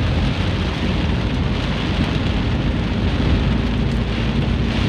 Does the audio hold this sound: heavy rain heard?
yes